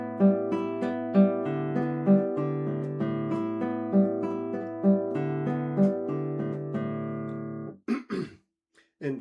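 Guitar plays a Leo Brouwer etude right-hand arpeggio pattern on open strings, a steady looping figure of plucked notes with a recurring accented bass, ringing clearly and alone before a brief breath and rustle at the end.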